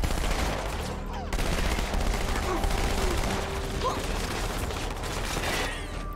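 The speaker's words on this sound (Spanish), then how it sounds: "Qué bien se siente el disparo" Rapid gunfire bursts from Halo 2 gameplay, dense and sustained across the whole stretch, with a brief gap early on and some faint mechanical clicks mixed in.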